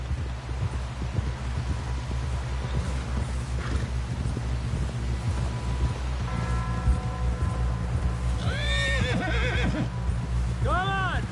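Horse neighs and whinnies near the end in Red Dead Redemption 2, over steady rumbling hoofbeats and background noise, with people talking throughout.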